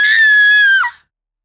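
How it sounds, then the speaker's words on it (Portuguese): A girl's long, high, piercing scream of agony, held steady for most of a second before breaking downward and cutting off, performed loud and close in an audio drama set in a ballroom. "Seu grito rasgou a sala do baile, um lamento desesperado e gelado de agonia."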